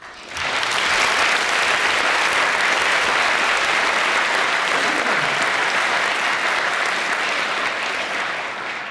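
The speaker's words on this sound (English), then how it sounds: "please join me in a round of applause for our guests" Audience applause welcoming guests at a university Christian Union debate between an atheist and a Christian on whether science can explain everything. The clapping is dense and steady, rises within the first second, holds for about eight seconds and tapers slightly at the end.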